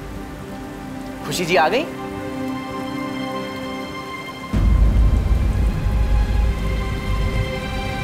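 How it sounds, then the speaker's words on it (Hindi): Heavy rain pours down in a steady, dense hiss that jumps louder partway through, following a short stretch of tonal music and a brief spoken line. "बड़ी जम के बारिश हो रही है आज।"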